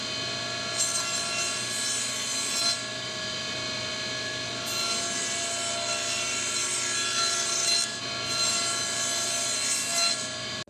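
A table saw cutting 1/4 inch dado grooves into the edges of wooden drawer sides for a deep shop cabinet, a steady high whine running throughout with several slight swells as each pass is made, loud and close, no talk.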